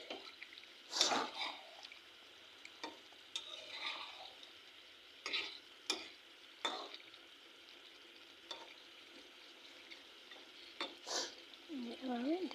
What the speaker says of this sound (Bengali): এবার এখন আমি দিয়ে দিচ্ছি চিকেনটা, দিয়ে ভালোভাবে নেড়ে দেব